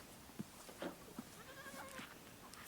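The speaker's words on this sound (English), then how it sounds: "Go check out all the baby goats and the turkeys and everything?" Several faint, high-pitched bleats from young goats come in short bursts, a little distant, with quiet farmyard background and no talking.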